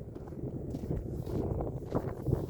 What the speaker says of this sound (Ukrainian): тут трохи вітер дує